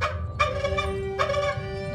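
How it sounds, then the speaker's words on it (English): A bird in the Gollum video game gives two loud, harsh, gobbling calls about a second apart, each a rough burst that fades, heard alone without talk. "Say hello to your bird."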